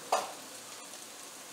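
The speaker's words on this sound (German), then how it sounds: "Dann sieht das auch sehr, sehr appetitlich und lecker schon in der Pfanne beim Braten aus." Food frying in a pan for a spaghetti tomato sauce, a quiet steady sizzle with one brief stirring scrape near the start, close and faint, no voices.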